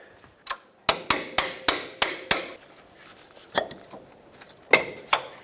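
A quick run of six sharp hammer taps on metal, then scattered lighter knocks and a few final strikes, close and fairly loud, as a hammer taps out a seized front strut bolt on a 1996-2002 Toyota 4Runner.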